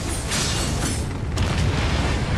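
Explosion in the video game Darksiders, a loud low boom with a broad rumble that carries through the whole stretch and a second burst near the middle.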